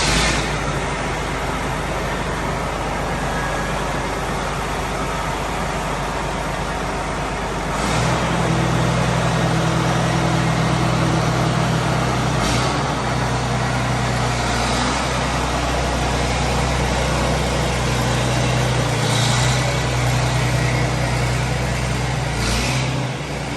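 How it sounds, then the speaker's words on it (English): A tractor being driven out of a repair shop gives a steady, loud engine rumble throughout, with the low drone rising and thickening about a third of the way through as it pulls out, plus occasional clunks. "So we're going to get this tractor pulled out of here."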